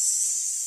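Voice imitating the hiss of a sizzling frying pan, a single short, steady hissing 'tss' breathed out close to the microphone.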